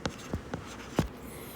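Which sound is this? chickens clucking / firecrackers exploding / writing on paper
writing on paper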